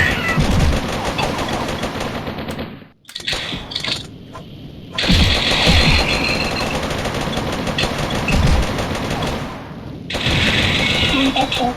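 Double-gun fire in the Mini Militia mobile shooter game rattles almost continuously and loudly, briefly dropping out twice, with a voice talking over it.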